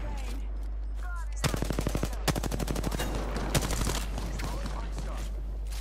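Rapid bursts of automatic gunfire and impact explosions from an airstrike in the Apex Legends video game, loud and rhythmic over a low steady hum, with sharp clusters of shots across the middle of the clip.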